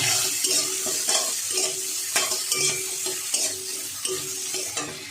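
Chopped green chilli, ginger and onion fry in a pan, a bright continuous sizzle punctuated by repeated clinks and scrapes of a spatula stirring, close and fairly loud with no voices.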